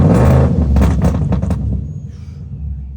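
A boosted drift car's engine is revved hard, loud and close, with a few quick throttle blips before the roar drops back to a lower rumble.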